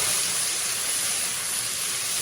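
Blanched vegetables tipped into hot oil in a wok with scallion and ginger, giving a steady, loud, even sizzle and hiss that carries unbroken through the moment.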